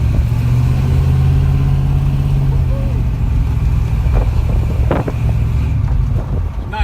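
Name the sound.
Ford Mustang coupe engine while driving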